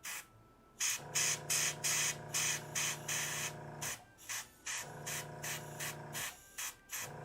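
A Badger Renegade airbrush sprays paint in repeated short bursts, each a steady close hiss lasting about half a second, separated by brief pauses and a couple of longer breaks, alone with no talking.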